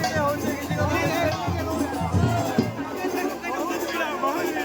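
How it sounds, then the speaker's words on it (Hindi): Dense crowd hubbub at a village Rath Yatra chariot festival in Odisha, steady overlapping voices and babble throughout, with people talking close by. "बहुत बहुत प्रबल भीड़"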